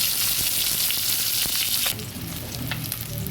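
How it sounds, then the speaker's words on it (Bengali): Katla fish pieces fry in hot oil in a pan, a loud, continuous close-up sizzle that eases slightly partway through, with faint clinks of stirring. "মাছগুলো ভাজা হয়ে গেছে"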